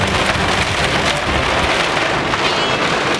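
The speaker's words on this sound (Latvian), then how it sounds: "Milžu lietus" Heavy rain pours down in a dense, steady hiss with constant loud patter on surfaces, no pauses and no voices.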